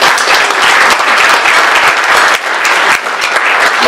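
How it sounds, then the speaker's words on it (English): Loud, close audience applause at an annual civic meeting in Cleveland, brisk dense clapping that fills the whole few seconds without pause. "We can clap for that."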